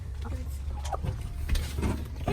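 Chickens in transport boxes cluck and chatter softly in scattered short calls over a steady low rumble, fairly close.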